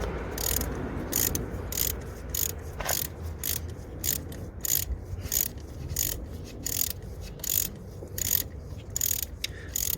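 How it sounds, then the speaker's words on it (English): Small socket ratchet clicking in steady rapid bursts while loosening the spark plug on a 2016 Piaggio Medley 125 scooter; close, crisp metallic ratcheting repeats throughout with no talking. "I will need my tiny socket ratchet"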